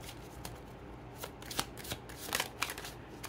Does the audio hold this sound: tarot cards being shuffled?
yes